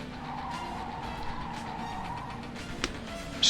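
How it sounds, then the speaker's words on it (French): A car drifts in the Speed Racer video game on the Wii, with a sustained tire skid over a steady engine drone, ending in a sharp bump at the close. "On va tenter un drift, attention."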